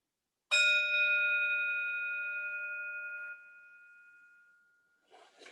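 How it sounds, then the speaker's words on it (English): A Buddhist service bell is struck once, ringing loud and clear with bright sustained harmonics that slowly fade over several seconds, followed by a brief faint rustle. "So I'll ring the bell and we'll begin the chant."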